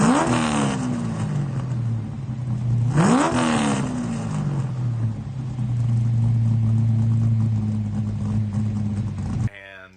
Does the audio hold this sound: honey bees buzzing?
no